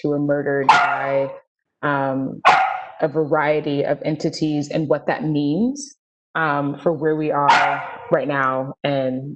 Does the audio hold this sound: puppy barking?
yes